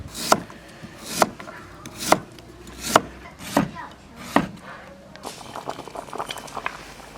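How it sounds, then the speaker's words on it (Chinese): A knife chopping through gastrodia (tianma) tuber on a cutting board, six slow, evenly spaced thuds, then quicker, lighter cuts trailing off near the end. "把甜麻切一下。"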